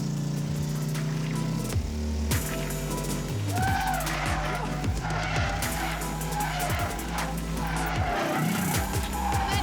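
A drift car at Driftlands slides with the handbrake pulled, its tires squealing and skidding while the engine revs up and down in bursts, heard from nearby amid faint voices.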